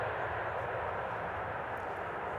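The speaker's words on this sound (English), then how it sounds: "777-200 going to Dubai." A KLM Boeing 777-200 bound for Dubai at Amsterdam Schiphol Airport gives a steady, broadband jet engine roar. It holds even and loud throughout, with no talk over it.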